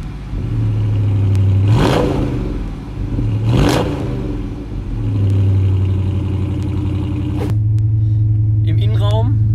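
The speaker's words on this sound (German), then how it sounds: "Das ist so typischer V8-Sound und typisches V8-Verhalten." A 2018 Dodge Challenger R/T V8 rumbles steadily up close, swelling through two sharp revs and a third longer surge before settling back to a deep idle, with a brief voice near the end.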